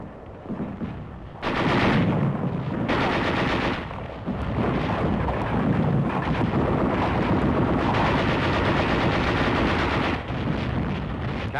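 Heavy combat gunfire at Mount Suribachi in a 1944 newsreel, with loud, dense machine-gun bursts and rapid shots in sustained volleys, broken by brief dips between bursts.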